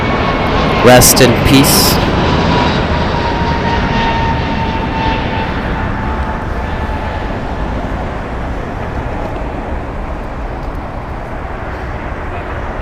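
American Airlines Airbus A321neo departing, a loud steady jet roar that drifts off gradually, with a brief burst of speech near the start.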